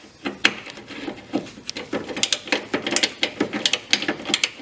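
A bolt is worked loose on a Hyundai Accent air conditioning condenser, giving a run of quick, close ratcheting clicks that grow busier and sharper after a couple of seconds, with small metallic knocks mixed in.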